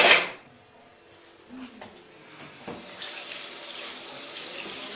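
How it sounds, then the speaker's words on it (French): Cold tap water runs over mackerel being washed in a sink, starting with a brief loud gush, then settling into a steady splashing stream with a few small knocks and clatters. "On lave bien le maquereau à l'eau froide."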